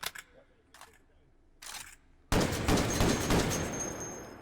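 Semi-automatic .50 BMG sniper rifle firing in the VR shooter H3VR: a few sharp, spaced cracks early on, then a sustained loud burst of blasts and clatter filling the second half.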